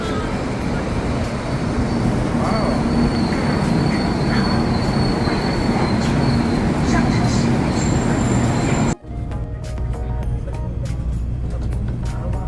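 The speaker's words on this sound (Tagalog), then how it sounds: "So yan ang bullet train dito sa may Taipei." A bullet train in Taipei, Taiwan rushing past loudly with a steady roar and high wheel squeal, then cutting off abruptly to quieter rumbling and clatter, with a voice talking over it.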